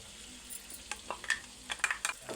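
Onions, garlic and green chillies stir-fry in a pan, a soft sizzle running underneath as a spoon scrapes and clinks against the metal in a string of brief, irregular strokes.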